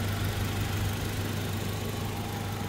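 A Toyota Land Cruiser Prado TX 2016 with a 2700cc engine in fresh condition, idling with a steady, smooth, low hum and faint vibration, close and continuous with no talking.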